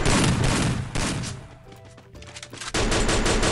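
An M60 machine gun with the Incubator skin fires in a video game, delivering dense, loud bursts of rapid gunfire that drop away briefly mid-clip before another heavy burst resumes.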